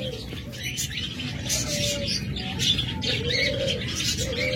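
Pet lutino pearl birds in cages at a bird shop coo and chirp, an overlapping chorus of calls near and far, under someone talking.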